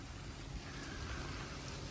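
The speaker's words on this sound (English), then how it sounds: "Hey, it's raining." Rain falls in a heavy downpour as a steady, dense hiss with low rumbling beneath it, with no voices over it.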